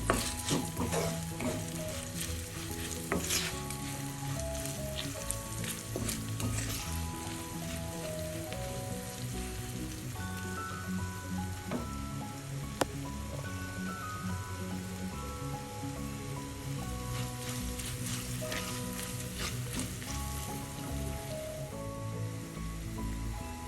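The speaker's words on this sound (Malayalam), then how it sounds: "എല്ലാം കൂടി എണ്ണയിലൊന്ന് മൂപ്പിക്കാം" Mustard seeds, spices and asafoetida fry in hot oil, giving a constant soft sizzle with scattered pops and crackles, close but fairly quiet. Gentle background music plays underneath and no one speaks.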